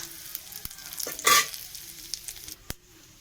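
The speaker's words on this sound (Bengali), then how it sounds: "তো আমার তেলটা গরম হয়ে গেছে, জিরে ফোড়ন দেওয়া হলো, তেজপাতা দেওয়া হলো, এর সঙ্গে একটু আদা বাটা" Cumin seeds, a bay leaf and ginger paste fry in hot oil, with a close sizzle that swells loudly as the paste hits the pan, then settles to a low crackle broken by a couple of sharp clicks.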